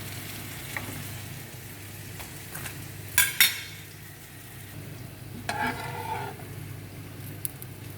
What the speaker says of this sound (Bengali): এইভাবে আমি সবগুলি পরাটা বাজ্যা নেব